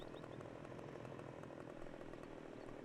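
A chainsaw runs continuously at high revs, cutting a tree in Farming Simulator 15, a dense, steady buzzing snarl that stays close and loud throughout.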